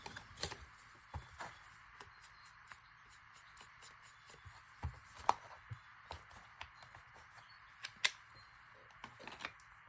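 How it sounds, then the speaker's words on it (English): Small scissors snip paper in quick, light cuts while trimming a gatefold card, with scattered crisp clicks and snips spread irregularly over a quiet background. "I just had my tiny little scissors here"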